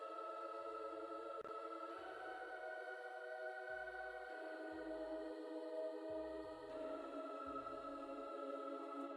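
The Scat Echoes choir preset in SoundTrap hums sustained, breathy vocal-like chords, while a soft plucked low pattern moves underneath, quiet and smooth throughout.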